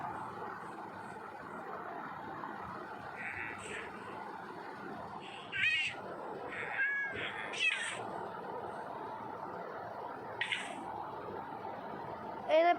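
Cat meows from the Minecraft video game come up intermittently, a few short cries over a steady background bed of game ambience and muffled talking.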